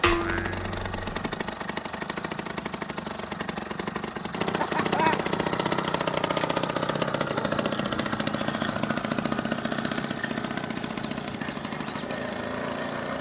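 A small motorized bicycle engine running with a rapid buzzing, knocking putter that steps up in loudness after a few seconds and holds steady, close and continuous.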